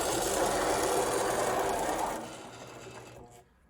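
An F7 A unit model locomotive drive mechanism whirs close up with a fine, steady mechanical hum that fades out in steps near the end.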